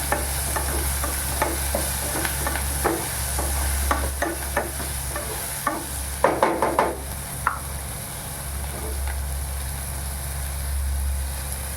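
Ingredients for ridge gourd rava upma sautéing in a pan, a steady sizzle with a low hum beneath and scattered spatula scrapes and knocks, including a brief cluster of taps midway.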